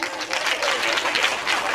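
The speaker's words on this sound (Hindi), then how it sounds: "ठोको ताली।" An audience at a Hindi comic poetry recital claps in a brief, dense burst of applause, fairly close and steady.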